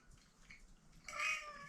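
A pet cat gives a short, faint meow near the end after a quiet stretch of soft room noise, heard at some distance indoors around a dinner meal.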